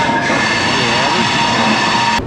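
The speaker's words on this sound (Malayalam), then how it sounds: "ഈ പോകുന്ന ട്രെയിനാണ് ഗീസ് ഇന്ത്യയിലെ ഏറ്റവും ലോങ്ങസ്റ്റ് റൂട്ട് ട്രെയിൻ" A long-distance train to Dibrugarh passes close by, a loud, steady rumble with rolling wheel noise throughout, ending in a sharp cutoff.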